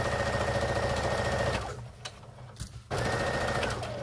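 A sewing machine stitches a dart in fabric with a fast, loud, even mechanical rattle that runs close up, stops for about a second while the fabric is turned, then starts again at the same pace.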